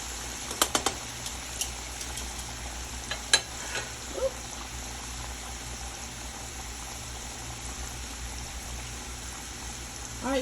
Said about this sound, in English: we're going to let this cook and get crispy on that side